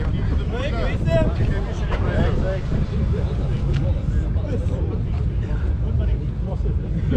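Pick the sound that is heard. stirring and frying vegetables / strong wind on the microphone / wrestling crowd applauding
strong wind on the microphone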